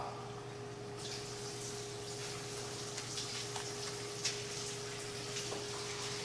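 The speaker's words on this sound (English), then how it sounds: "what all decanting means is to pour off the top" Wort is poured off the top of a homebrew yeast starter, leaving the yeast cake behind, a faint, steady trickle of liquid with soft splashes, quiet and close, with no talk.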